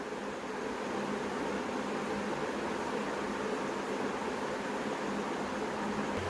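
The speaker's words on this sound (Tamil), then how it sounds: "இப்போ இதை நம்ம அப்படியே ஃப்ரை பண்ணிடலாம்" Badusha sweet dough frying in hot oil gives a steady, dense hiss and crackle that holds at an even level throughout, with no voices over it.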